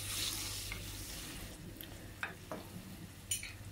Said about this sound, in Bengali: তেলের মধ্যে 1 কাপ পেঁয়াজ এবং কাঁচামরিচ দিয়ে দিয়েছি এবং সামান্য লবণ